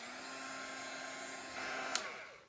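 A hair dryer blows steadily over mixed media paint, a close, even whirring hum that shifts slightly in pitch partway through before cutting off with a brief click.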